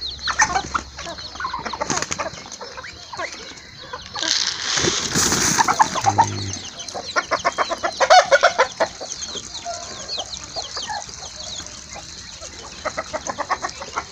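Chickens and chicks on a farm, with steady clucking and busy peeping throughout, a louder flurry of squawks midway, and a rooster crowing nearby.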